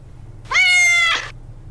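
A black cat gives a single clear, close meow lasting under a second, with a rising then falling pitch against a quiet background and no voices.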